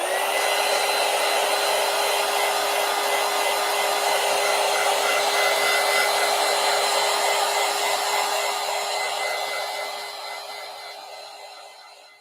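Hair dryer blowing on a painted art journal page, a loud, steady whine with a continuous airy roar that holds for about ten seconds, then winds down as it is switched off.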